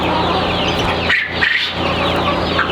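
Quail in a multi-level hutch give a couple of short, sharp chirping calls over steady background noise, close by and fairly loud.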